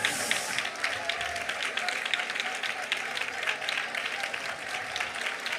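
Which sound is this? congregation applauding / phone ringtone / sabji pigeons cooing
congregation applauding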